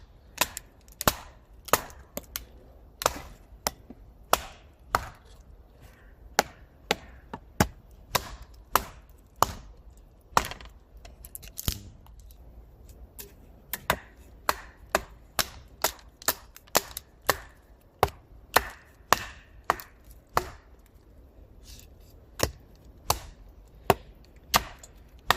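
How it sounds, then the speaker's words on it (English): A Böker Plus Mini Tracker knife batoning and splitting twisted forest wood: sharp, dry knocks repeat at an irregular, quick pace, close and crisp, with quiet pauses between strikes and no talk. "So yeah, knife can definitely baton or split some wood."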